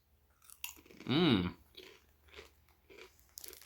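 Thin, taco-flavored Turkish cracker chips crunched and chewed up close, with several crisp bites in an uneven rhythm and a short hummed murmur in the middle.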